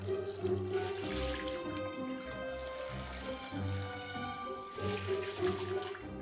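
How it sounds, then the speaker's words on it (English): Cold tap water runs steadily into a pan of freshly steamed boiled eggs in a kitchen sink, a continuous close splashing stream with no talking. "Drain and cool immediately in cold water."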